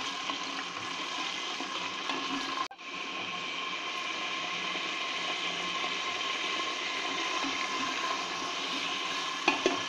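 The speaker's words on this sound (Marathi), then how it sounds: "सर्वप्रथम टोमॅटो आणि कांदा घालून आपण परतून घेऊया" Chopped tomato and onion sautéing in melted vegetable ghee give off a steady, close, loud sizzling hiss that runs the whole time, broken by one brief dip early on and a couple of sharp clicks near the end.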